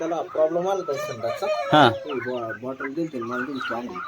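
Country chickens in a poultry shed with a bamboo setup cluck and call continuously at close range, a busy, overlapping chorus with one sharper, louder squawk partway through.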